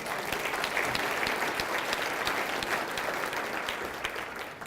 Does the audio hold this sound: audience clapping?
yes